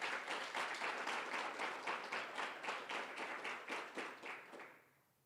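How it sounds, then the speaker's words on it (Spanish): A church congregation claps together in a fast, steady rhythm that fills the room, then fades out over the last second. "aplaude el nombre del Señor en esta hora"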